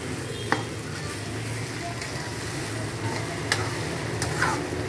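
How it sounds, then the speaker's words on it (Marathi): Poha being stirred in a pan on the stove, with a steady low sizzle underneath and a few soft, scattered scrapes and taps of the spoon against the pan. "चांगला वर खाली नीट हलवून घ्यायचं."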